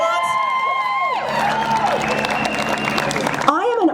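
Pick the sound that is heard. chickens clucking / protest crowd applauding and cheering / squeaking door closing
protest crowd applauding and cheering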